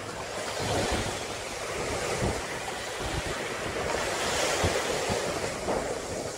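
Ocean surf rolls onto Teleng Ria beach in Pacitan, a continuous broad wash of waves mixed with wind buffeting the microphone, steady and moderately loud throughout.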